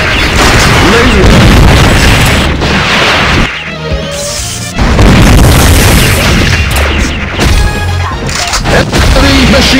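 Laser gun and heavy machine gun fire from the Metal Slug arcade game, dense loud blasts and booming explosions nearly continuous throughout, briefly dropping around a short pause before resuming, with game voice callouts mixed in.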